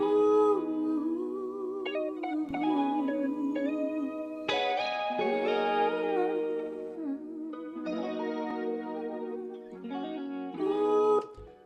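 Guitar leads and short licks played through effects with echo and reverb, singing sustained notes and bends in melodic phrases that run continuously without talk.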